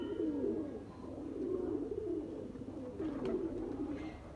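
A pair of Sialkoti breed pigeons coo close by in repeated low, throaty rolling calls, several phrases in a row over a steady background hum.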